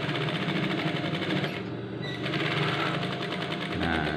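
Sewing machine running continuously while stitching a stiffened collar for a PDH uniform shirt, a dense steady mechanical whir with one brief dip in the middle, heard close and alone.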